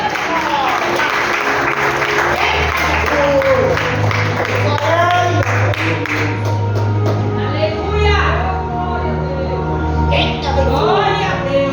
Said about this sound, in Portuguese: Então vamos receber o servo de Deus com as palmas para Jesus.